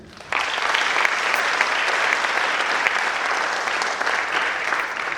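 A theatre audience applauds a cast member at a staging of the play Ghashiram Kotwal. A dense, even wall of clapping starts abruptly and carries on steadily without a break.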